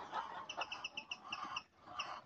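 A flock of white egg-laying hens close to laying age clucking in a caged farm shed, a steady stream of rapid, fairly close clucks and calls with no talk.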